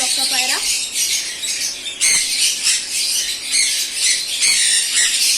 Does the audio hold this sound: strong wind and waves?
no